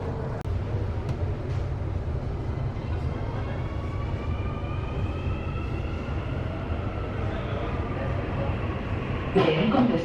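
Santiago Metro Line 6 CAF AS2014 automatic train with steady interior rumble and rising motor whine as it pulls away after the doors close, with a brief clatter near the end and faint announcement-like voice sound underneath.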